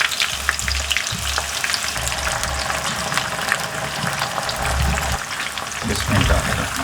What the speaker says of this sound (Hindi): और थोड़ा सा फ्राई कर लेंगे, लो आंच पे फ्राई करेंगे।